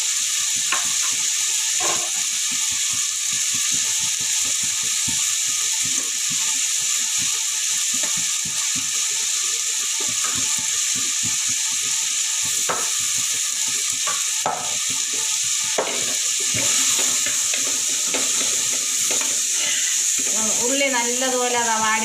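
Onions and coriander powder fry in a pan for mutton boti roast, giving a continuous loud sizzle with scattered spoon scrapes and clinks against the pan, and no talking.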